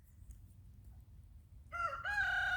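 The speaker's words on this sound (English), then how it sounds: "that rooster down there" A pet rooster on a backyard flock of ducks and chickens lets out a single loud, close crow late in the clip, after a stretch of quiet low rumble.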